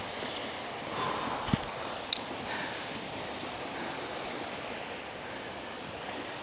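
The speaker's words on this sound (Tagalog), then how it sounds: "Ito na yung ilog." River water rushes steadily near Ambon-Ambon Falls in Alfonso, Cavite, a soft continuous wash of flowing water with a couple of faint knocks, like footsteps on rock, and no talking.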